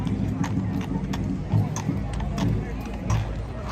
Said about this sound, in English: And here we have the horses.